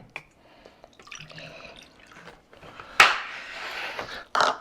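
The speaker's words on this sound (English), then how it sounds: "we're gonna go ahead and mix in a cup of apple cider vinegar" A cup of apple cider vinegar is poured into a bowl for smoked pulled pork: soft handling clatter, then a sudden close splash and steady liquid pour that ends with another brief splash.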